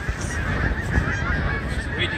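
A person imitates a goose honk, a loud, steady, nasal honking voice held close to the microphone for a couple of seconds without break.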